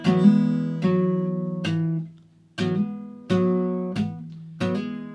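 Guitar chords strummed about seven times at an even pace, each ringing out and decaying before the next, with one brief pause midway.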